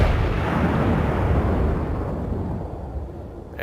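Battleship main guns boom in a World of Warships naval battle, a loud sustained rumbling blast that fades slowly over a few seconds with no talking.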